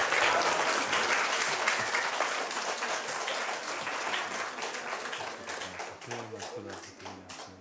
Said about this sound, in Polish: Jeszcze raz brawa naszego brata.